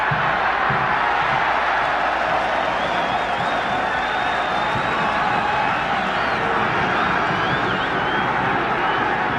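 A stadium crowd at a 1979 New Zealand versus Argentina rugby test match roars continuously, dense and loud with whistles and shouts rising through it, and a commentator's voice partly under the noise.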